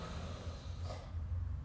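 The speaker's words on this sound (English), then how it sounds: "take 3 big breaths here" A big, deep breath during a family yoga session, a close airy inhale and exhale with a soft nasal rush, heard alone.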